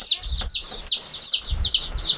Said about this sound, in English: Look at the baby chickies.